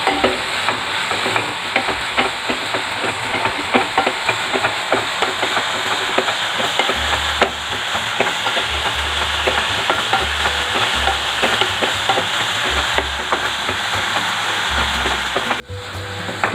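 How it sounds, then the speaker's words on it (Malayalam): Flattened rice, raisins, cashews, jaggery and grated coconut are stirred in a pan, producing steady close scraping and a soft sizzle that carry on without pause and without talking. "ഇതിലേക്ക് അവലും ചേർത്ത് കൊടുക്കാം, കിസ്മിസ്, കശുവണ്ടി. നന്നായി മിക്സ് ചെയ്യാം."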